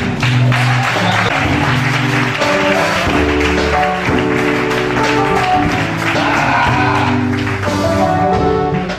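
A church congregation at a pastor's consecration service in Togo applauds loudly and steadily for several seconds, sustained clapping over music and voices.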